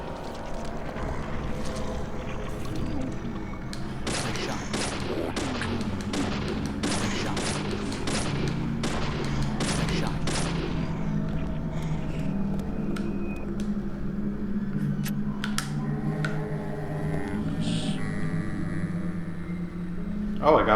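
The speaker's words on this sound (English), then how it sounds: "let's shoot our gun more" Rapid bursts of gunfire from a handgun in the horror game Deadly Premonition, a dense volley of shots clustered early and thinning out later over a constant low ambient rumble, with a voice talking throughout.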